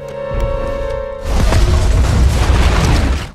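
A car explodes in a film: a loud explosion bursts in after a sustained tone, followed by a roaring, crackling rumble of debris and fire that fills the rest of the clip.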